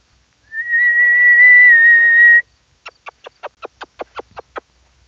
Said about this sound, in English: It's going to be loud because I whistled to get him to come in.